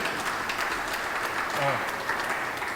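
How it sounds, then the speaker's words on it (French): Audience applause at a business forum panel session during a convention in Benin, a dense continuous clapping wash with a brief voice rising over it partway through. "Est-ce que nous pouvons applaudir le Seigneur pour ce premier panel?"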